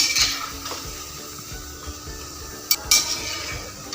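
Urad dal pakoras fry in mustard oil over a high flame, giving a steady sizzle broken by stirring scrapes and a couple of sharp clinks of a utensil against the pan.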